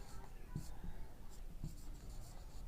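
Pen scratching on paper while solving a Class 10 maths problem on triangle side ratios, with soft, irregular strokes close by under a quiet voice.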